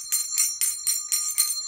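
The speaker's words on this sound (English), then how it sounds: "So I thought that this would be a good opportunity to include a bigger bell. I'll ring it for you." A large bell, used as a sound-cleansing tool, rings in six repeated, evenly spaced strikes with bright sustained tones, close and loud, with no talk over it.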